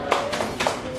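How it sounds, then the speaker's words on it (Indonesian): A group claps a quick, rhythmic tepuk hamasa cheer in a morning lesson setting: three sharp, close handclap bursts in about a second, over light room noise. "Yuk kita tepuk hamasa dulu"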